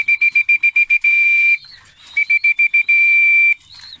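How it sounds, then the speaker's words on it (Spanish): A shrill whistle blown to call young racing pigeons to feed: two bursts of rapid short toots, each run ending in a longer held blast, loud and close with no talk. "que los pichoncitos se vayan acostumbrando al sonido del silbato, para que desde ahorita ya empiecen a conocer que el silbato es la comida"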